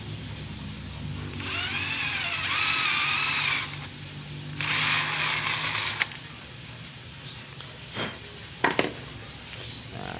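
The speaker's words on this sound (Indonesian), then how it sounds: "Kita lubangi agak besar seperti ini." A drill bit bores a hole in small-scale beam hardware, with two bursts of whirring drilling separated by a pause, followed by scattered clicks and light handling knocks.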